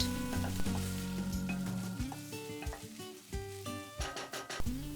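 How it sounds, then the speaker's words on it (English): Chopped onion and tomato fry in a pan for a Goan crab tart filling, with a steady close sizzle running throughout, overlaid by a prominent tonal musical bed and a few light clinks. "Then add 1 large tomato chopped. Fry it until tomato is soft."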